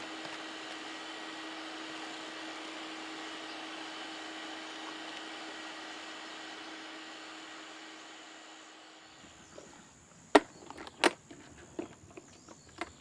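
Dust extractor motor running with a steady, even hum for about nine seconds before it winds down and stops, leaving a few sharp clicks and knocks close by.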